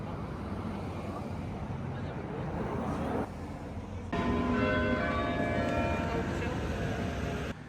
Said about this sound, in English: the church bell started ringing